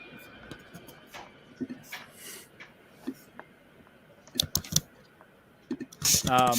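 Scattered clicks of people typing on a computer keyboard during a voice chat broadcast, irregular and fairly faint, with talk passing over them.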